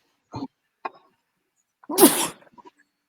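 A single loud, sharp sneeze bursts out after a couple of faint, brief sounds in an otherwise quiet room.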